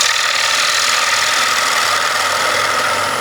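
A gouge on a wood lathe makes a bevel-rubbing cut across a thin-walled bowl, giving a steady, loud whirring hiss that runs without a break and with no voices.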